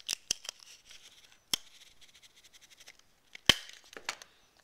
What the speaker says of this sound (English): I'm going to put some tape on there